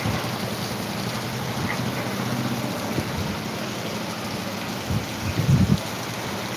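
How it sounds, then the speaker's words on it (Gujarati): Steady rain pours down on Jamkandorna, Gujarat, in a continuous broadband hiss, with a few low rumbles and thumps near the end. "किसानों के लिए दुख की बारिश हो रही है अभी तो"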